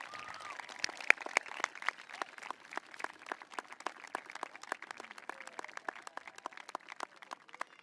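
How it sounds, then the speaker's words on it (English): Applause at a school promotion ceremony, with scattered distinct claps rather than a dense wash, fairly distant and moderately quiet, continuing steadily throughout. "Can the Pequannock Valley class of 2026 please give our parents and guardians a warm round of applause?"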